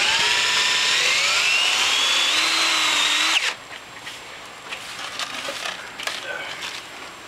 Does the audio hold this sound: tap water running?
no